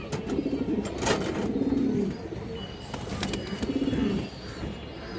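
An active male pigeon calling, repeated low throaty coos in rolling bursts about every one to two seconds, close and clear against light background noise.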